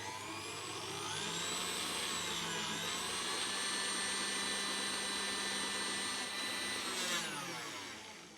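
An electric mixer runs at high speed, whisking a foaming sugar scrub made with essential oils. It gives a loud, steady, close whine that holds for several seconds and then winds down briefly near the end.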